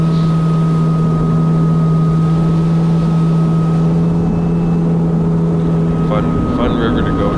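A 2022 Kawasaki Ultra 310 LX jet ski runs on the Richibucto River, giving a loud, steady engine drone with a strong hum that holds for the whole stretch, while water and wind rush underneath.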